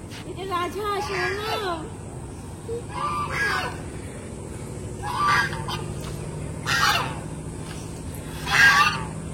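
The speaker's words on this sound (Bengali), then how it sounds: "রাজহাঁস।" Geese honk in loud, harsh bursts at a house being readied for a wedding's turmeric ceremony, the calls coming in separate clusters that grow louder toward the end, with a voice and steady background noise underneath.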